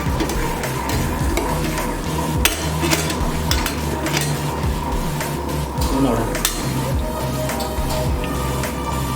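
A giant pappadam for Onam fries in a pan of hot oil, with a steady loud sizzle and bubbling while utensils scrape and knock against the pan throughout.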